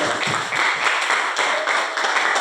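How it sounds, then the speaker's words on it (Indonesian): A group claps together in a meeting room during a training session, a loud, close burst of hand claps lasting a couple of seconds. "beri tepuk tangan untuk kita semua"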